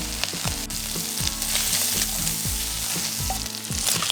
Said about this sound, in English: make sure to mix up the bacon